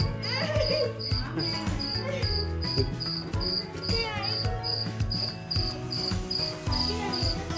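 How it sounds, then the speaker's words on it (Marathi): Crickets chirp in the jungle at Aves garden, a fast, regular pulsing trill that keeps going throughout over a dense layer of background music. "असे किडे वाजणार, किरकिर."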